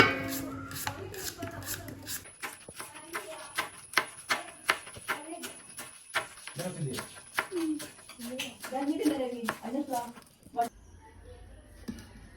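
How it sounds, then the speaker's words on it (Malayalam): Taro being chopped into small pieces on a board, a rapid series of sharp knife taps at an uneven rhythm, close and clear, with quiet talk at moments. "ഇത് നല്ല വൃത്തിയായിട്ട് ചെറിയ ചെറിയ പീസായിട്ട് അരിഞ്ഞെടുക്കണം"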